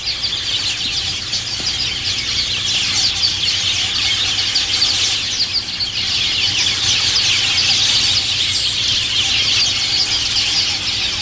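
Weaver bird chicks beg loudly while females feed them at the nest, a dense, continuous chorus of high squeaking calls that holds steady throughout with only a brief dip midway.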